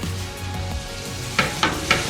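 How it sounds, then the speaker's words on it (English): A burger patty gives a steady frying sizzle in an oiled pan, with a few sharper crackling bursts of hot oil popping toward the end. "here comes the best part, the sizzling sound"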